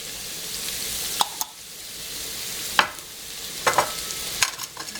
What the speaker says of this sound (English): I'm going to get my spatula. Start to stir them around.